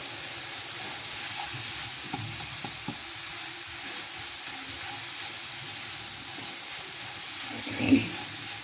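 Steady, even sizzling hiss of vegetables frying in ghee for a rice dish, close up and continuous, with occasional faint clinks of stirring and no talk over it.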